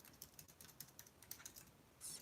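Quick, uneven keystrokes on a computer keyboard while someone types out a message, a steady run of light clicks fairly close, with a brighter burst near the end.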